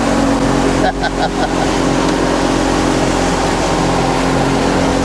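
A boat powered by a Merc 60hp outboard motor cruises on Washington water, its loud, steady engine drone filling the whole stretch, with a brief dip near the start and a voice talking over it.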